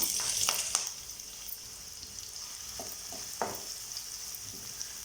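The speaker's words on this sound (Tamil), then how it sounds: "ஸோ இந்த வெங்காயம் வந்து பார்த்திங்கன்னா நல்லா வதங்கணும்" Thinly sliced onion sautés in oil for potato masala, a faint, even frying hiss with a few soft stirring scrapes and light taps, quiet and without voices.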